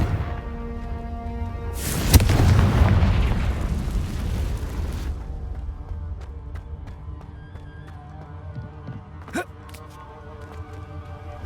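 A Confringo blasting spell going off in the video game Hogwarts Legacy: a loud booming burst with a rushing roar that slowly fades into a rumbling tail over game music, with a brief later pop.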